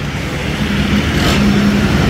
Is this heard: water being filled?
no